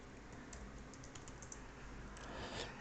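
A password is typed on a computer keyboard as a quiet run of light key clicks at an uneven pace, with a slightly firmer tap at the end.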